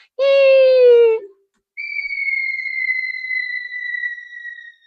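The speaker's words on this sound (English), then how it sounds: "This right here, we got the bomb falling." A harmonic synth tone buzzes briefly, then a pure sine-synth whistle, bent with a MIDI keyboard pitch wheel, glides slowly downward in pitch, like a falling bomb, clear and alone.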